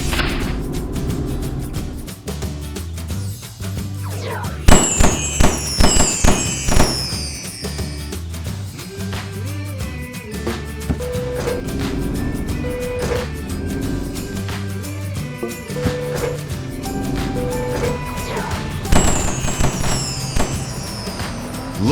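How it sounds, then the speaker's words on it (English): Cartoon fireworks festival at a stadium: repeated thumping bursts and crackling pops go off one after another over a dense, busy backdrop of music and effects, loud and continuous throughout. "The fireworks festival has begun."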